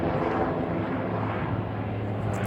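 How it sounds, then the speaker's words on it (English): A helicopter drones steadily overhead in the countryside, a constant broad engine and rotor rumble at moderate distance, with no speech. "No, not plane, helicopter I mean."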